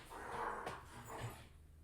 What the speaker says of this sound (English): the dogs are crazy